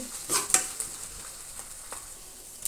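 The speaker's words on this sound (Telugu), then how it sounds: "దీంట్లో జింజర్ పేస్ట్ యాడ్ చేసేసుకొని పచ్చి స్మెల్ పోయేంత వరకు ఫ్రై చేసేసుకుందాము." Ginger paste frying in a pan gives a soft sizzle, with a few light scrapes and clinks of stirring, faint and brief.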